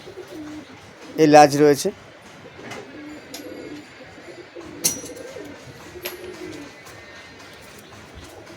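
Teddy pigeons, including a female, give soft, low coos close by among faint rustling, while someone talks over them in short bursts.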